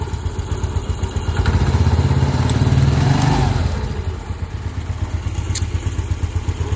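A Yamaha Mio Sporty scooter engine, freshly serviced in its CVT with a new V-belt and rollers, idles close by with a steady clatter, then revs up for a few seconds before settling back to idle.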